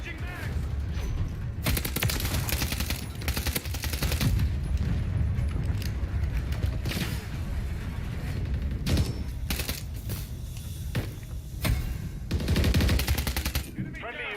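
Dense automatic and single gunfire from a Call of Duty: Modern Warfare 3 multiplayer match, rapid bursts and loud cracks that keep going with brief gaps, with game voice callouts over the shooting.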